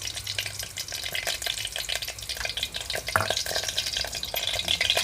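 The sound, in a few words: pouring groundnut oil into a hot pan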